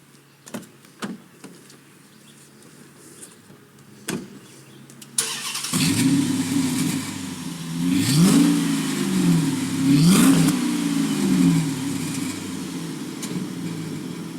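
A Chrysler Crossfire swapped with a 5.7 Hemi V8 cranks and fires up loudly after a few clicks, then revs twice in sharp rising bursts before settling into a rumbling idle.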